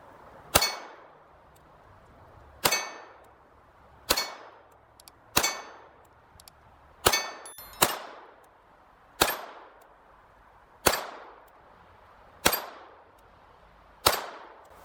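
Walther P22 pistol fired slowly in single action, about ten sharp, loud shots spaced one to two seconds apart, each with a ringing metallic tail and no talking.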